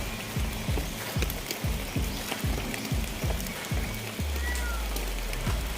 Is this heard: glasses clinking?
no